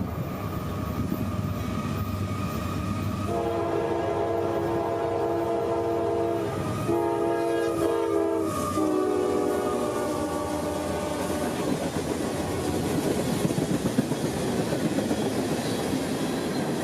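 A passing freight train rumbles steadily while a loud multi-tone horn sounds in several long blasts, followed by continued rolling and rattling of cars.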